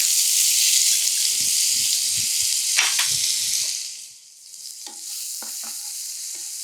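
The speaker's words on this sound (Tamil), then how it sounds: "இதோட பொடியாக கட் பண்ணி வச்சுருக்கிற வெங்காயம் சேர்த்துக்கலாம்" Finely chopped onion sizzles in hot oil with asafoetida in a pan, a loud, steady frying hiss close by, with a spoon scraping and stirring at intervals and the sizzle briefly dipping before resuming.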